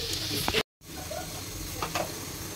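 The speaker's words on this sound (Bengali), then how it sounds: "এই যে এখন ভেজে দিলাম।" Rohu fish curry with bean seeds frying in a pan, a steady hiss of sizzling oil with a brief dropout, close and moderately loud with occasional stirring clinks.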